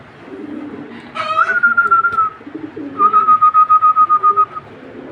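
Pakistani high flyer pigeons give two bursts of rhythmic, pulsing coos, each a run of about ten close throbbing notes, with a thin whistle-like tone alongside them at close range.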